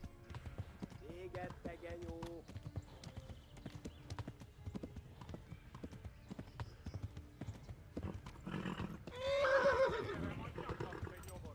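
Horse hooves clip-clop in a steady galloping rhythm from the Kingdom Come video game, with a loud neigh near the end; a voice talks over parts of it.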